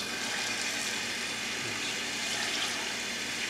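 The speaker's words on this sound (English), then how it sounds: "I usually like to run water over that and help it to wash the" Steady tap water runs over lime pulp in an electric citrus juicer, a continuous broadband wash that stays even and close for the whole stretch, with no voices.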